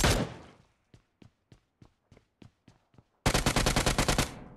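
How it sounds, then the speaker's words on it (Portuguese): Gunfire in PUBG Mobile: a burst opens, then a spaced series of single sharp shots, followed by a loud rapid automatic burst near the end, with no talking. "Do nada eles aparecem atirando em mim."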